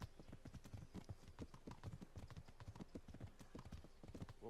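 Horse hooves clip-clop at a steady riding gait in the medieval game Kingdom Come: Deliverance, a dense, continuous run of close hoofbeats with no talking.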